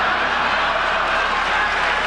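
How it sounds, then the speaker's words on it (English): Audience at a televised presidential debate applauding Ronald Reagan's answer, a steady broadband wash of clapping from a large crowd, dense and even throughout without individual claps standing out. "The audience reacted with laughter and applause to Reagan's confident answer."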